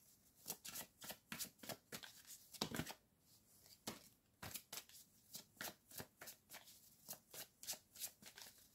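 Tarot cards are shuffled close up in a steady rhythm of quick riffling bursts, about two per second, soft and crisp with no talk.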